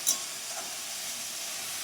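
Vegetables fry in a pan with a soft, steady sizzle, fairly faint and continuous over a short stretch, with no voices.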